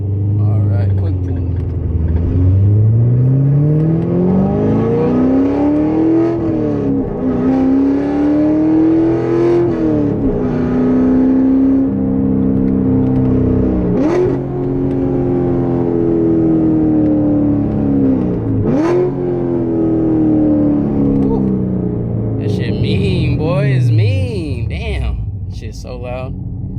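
A Corvette Stingray C8 pulls hard, its engine note climbing through several gears with sharp shift breaks, loud and close from inside the car, then easing off near the end.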